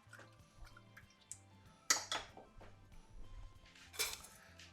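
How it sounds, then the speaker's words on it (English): Water swirled over cauliflower pieces in a kitchen pan, giving soft sloshing and a couple of brief clinks of the pan, quiet overall with faint background hum. "let's just give them a quick swirl of water."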